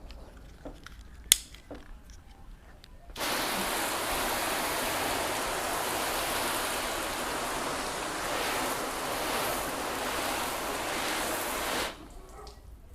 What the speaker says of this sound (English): let's completely flood these panels